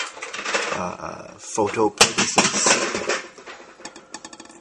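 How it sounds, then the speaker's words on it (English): A five-month-old baby throws objects around a room, making scattered clattering knocks and bangs in the background while someone talks over them during a knife cut test. "Excuse the noise, that's my daughter throwing things."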